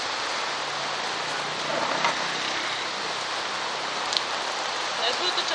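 Rain falls steadily in Coral Bay, Cyprus, a dense, even hiss of drops from close by with a few sharper taps.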